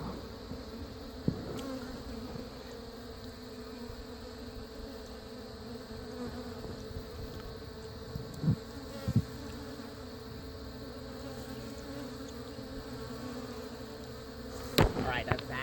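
A steady, low buzzing hum of many honeybees being removed from a mobile home, continuous throughout, with occasional sharp clicks and bumps close by.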